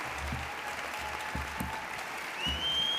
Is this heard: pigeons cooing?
no